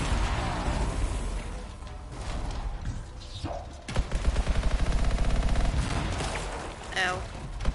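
Gunfire in Anthem, a dense spray of automatic shots with a sharper rapid burst in the middle, mixed with effects and muffled game noise at close range.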